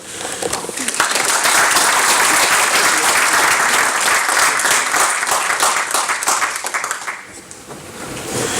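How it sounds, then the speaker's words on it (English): A full round of audience applause after a speaker's introduction at a talk, rising quickly to a dense, steady roar of clapping, easing briefly near the end and then swelling again. "Please give a round of applause."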